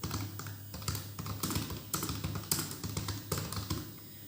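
Rapid tapping on a computer keyboard while writing C++ code, keys clicking in uneven bursts with brief pauses, close and moderately loud, with no voices.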